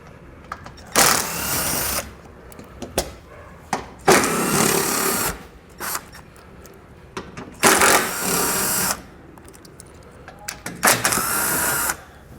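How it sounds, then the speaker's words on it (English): Bolts come out from under a 2021 Jeep Cherokee with a power tool and 10mm socket. Several loud, rattling bursts of about a second each are separated by brief pauses. "we're going to come underneath the vehicle here with a 10mm socket. You're going to see 4 bolts here"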